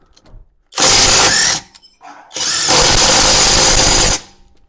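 A Grosser GTW 780 impact wrench tightens a car wheel nut in a garage, firing two loud, close hammering bursts of about one and two seconds separated by a brief pause.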